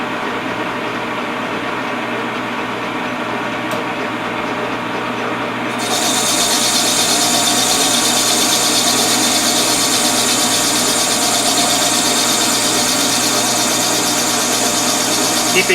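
A boring cut on a Grizzly G0776 machine, fed in ten thousandths, gives a loud, continuous grinding whine and mechanical drone that steps up in intensity midway and then holds steady.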